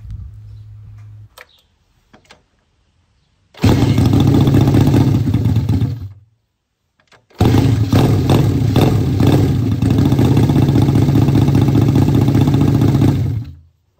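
A Honda SS180 V-twin motorcycle engine kicks and fires up, runs loud and steady, cuts out, then restarts and idles with a rough, clattering rumble close by.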